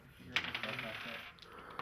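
Dice clatter across a table during a Dungeons & Dragons game, with a sharp first impact followed by a few quick rattling bounces that settle, then a faint final tick.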